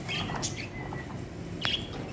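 Small birds chirping and tweeting in a home where pet birds and mice are kept, with a few sharp high calls near the start and a louder squawk-like chirp toward the end, no voices.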